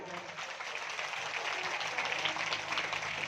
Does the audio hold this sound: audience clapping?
yes